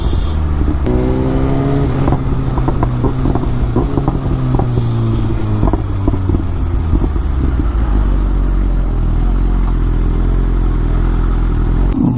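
A BMW S1000RR Pro motorcycle with an Akrapovic full exhaust system rides along, its engine droning loud and close with rising revs and wind rush, and no talk.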